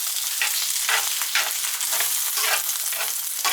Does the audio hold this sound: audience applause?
no